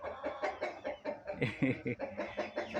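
An Aseel rooster, a pure Punjabi fighting breed from Amritsar, gives a close run of rapid, choppy clucks and calls, rising briefly in the middle, with nearby voices mixed in.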